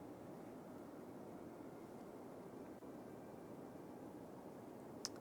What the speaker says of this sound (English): It's a lot of airplanes.